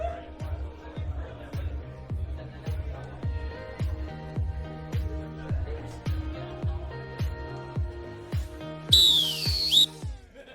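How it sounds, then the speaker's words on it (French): A referee's whistle at an improv match gives one short, sharp, high blast near the end, cutting over rhythmic background music with a steady pulsing beat. "l'arbitre va siffler quand il va rester 30 secondes"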